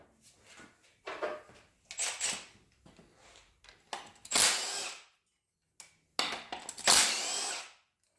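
Front pulley being removed from a 350 Vortec L31 engine with a power tool, several short bursts of impact-gun rattle and whirring, loud and close, separated by brief pauses and quieter mechanical clicks.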